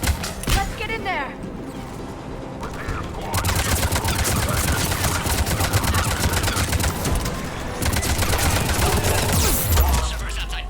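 Sustained automatic gunfire at a checkpoint battle in Mass Effect 3, loud and continuous, with dense rapid bursts layered over sci-fi ambience and voices talking through the fighting.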